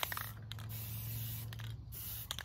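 Spray can painting at a small farmhouse project: a close, steady hiss of aerosol paint lasting about two seconds, with brief rustles and a short pause around the middle.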